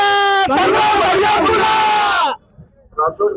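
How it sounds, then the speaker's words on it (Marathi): A large crowd of supporters at a vote-counting centre roars and yells together in a loud, sustained victory cheer that cuts off abruptly, followed by a couple of brief voices. "आता इथं एवढा जल्लोष"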